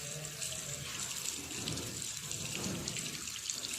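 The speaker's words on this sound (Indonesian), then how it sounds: "bilas tangan dengan air mengalir dan bersih" Tap water runs steadily into a sink while hands are rinsed under the flow, a continuous close splashing wash with no talking.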